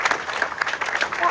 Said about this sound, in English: Give yourselves a round of applause for being activists